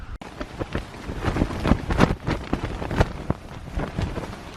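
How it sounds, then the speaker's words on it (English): Strong gusts buffet a fabric photography hide outdoors, with irregular loud thumps and rustling bursts as the blind shakes and flaps. "The wind is picking up sometimes and shaking the blind."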